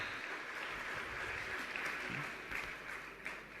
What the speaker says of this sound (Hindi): मैं चाहता हूं सभी जोरदार तालियों से स्वागत करें, उनका उत्साह बढ़ाएं